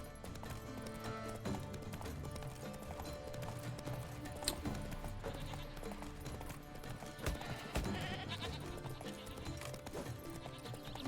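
Roach, the horse in The Witcher video game, gallops with steady rapid clip-clop hoofbeats and an occasional neigh, set against continuous game music and ambience, with no talk.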